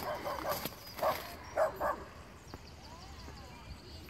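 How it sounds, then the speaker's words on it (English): A small Yorkie dog barks and yips outdoors in an Irish town, giving a few sharp, moderately distant barks in quick succession over faint background noise, then falling quieter. "now I have a dog barking at me"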